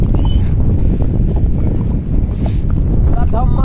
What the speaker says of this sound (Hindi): मैं हूँ अभी घोड़े पे.